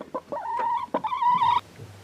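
A chicken gives a run of close, loud clucks that rise into a drawn-out, squawking call, with a low hum underneath and no talking.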